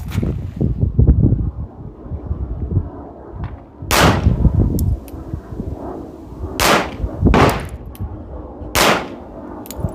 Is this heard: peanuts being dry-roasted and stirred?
no